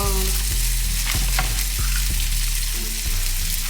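Halved kielbasa sausages sizzle loudly and steadily in a frying pan, with several dull thumps and pan clanks as they are pressed down.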